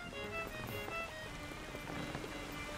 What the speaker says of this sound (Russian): Видите, дождь начался.